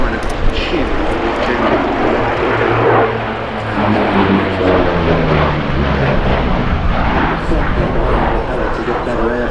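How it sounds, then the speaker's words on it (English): A twin-engine P-38 propeller fighter with deep chin cowls flies past at the Flying Legends 2023 airshow, a loud, sustained engine roar with a shifting pitch, while a commentator talks over it. "Flying P-38."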